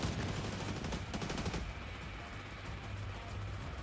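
Rapid automatic gunfire from a firefight in the video game The Division 2, a dense burst of shots in the first second and a half, then a quieter rumble of game ambience.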